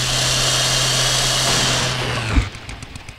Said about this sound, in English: pick up a chainsaw and go to town on some trees